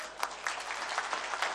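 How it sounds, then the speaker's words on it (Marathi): A crowd at an outdoor public rally in Ratnagiri claps in a brief, fairly faint burst, a busy patter of many hands heard from some distance. "आता उदय सामंत साहेबांसाठी आता वाक्यासाठी जोरदार टाळ्या वाजवायच्या"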